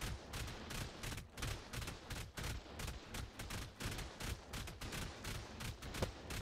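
Rapid, sustained bursts of turret gunfire hammer away in an Ark PvP raid on a base, dense overlapping shots with only a brief word spoken.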